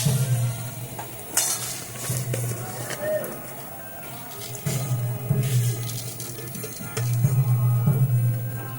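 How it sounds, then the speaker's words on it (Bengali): Spice paste for a fish curry (bata fish jhol) fries and is stirred in a pan, giving soft scraping stirs and low sizzling throughout with a steady low hum, near and moderately loud. "এবারে আমি ভালো করে মশলাটাকে কষিয়ে নেব"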